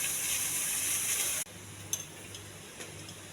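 Chopped onions frying in a pan, a soft steady sizzle at low volume with a sudden drop midway, followed by a few faint utensil clinks and stirring scrapes.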